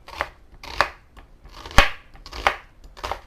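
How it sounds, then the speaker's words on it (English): A knife dicing onion and garlic on a cutting board for baked ziti, five or six sharp, close chops spaced unevenly, alone with no talk. "we're just dicing up our onion and our garlic here"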